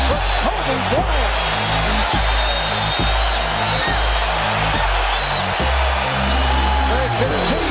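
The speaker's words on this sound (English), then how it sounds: "Standing ovation for Kobe Bryant." A basketball arena crowd giving Kobe Bryant a standing ovation, with loud sustained cheering and roaring throughout under steady play-by-play commentary and background music.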